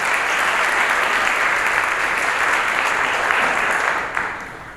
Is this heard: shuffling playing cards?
no